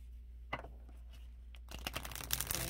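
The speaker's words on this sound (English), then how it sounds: "See how they shuffle." Oracle cards are shuffled in a few quiet, brief riffles and taps, then a denser flurry of papery shuffling near the end, close up over a low hum.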